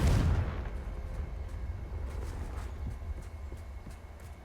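A Confringo spell blast in the Hogwarts Legacy video game lands as a single loud booming burst at the start, then fades into a lingering rumble with faint crackling debris.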